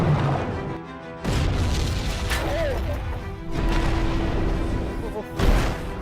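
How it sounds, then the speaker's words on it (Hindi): Depth charges exploding underwater in a naval war film rumble as a series of heavy, booming blasts mixed with a dense roar, while a voice narrates over them. "तीन दिन के ऑपरेशन में इंडियन नेवी ने 156 डेप्थ चार्जेस फायर किए।"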